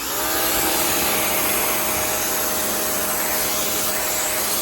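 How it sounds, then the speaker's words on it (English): A pressure washer blasts out the inside of a BBQ smoker, a steady, loud, hissing roar of spraying water that holds constant from start to finish, close up and without voices. "So I'm going to get the pressure washer"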